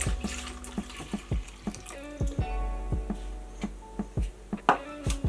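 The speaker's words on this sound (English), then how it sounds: "And then you add in your milk." Milk is poured into whole wheat pancake batter in a bowl, producing faint, soft liquid trickling and splashing with small irregular drips and clinks, quiet and close.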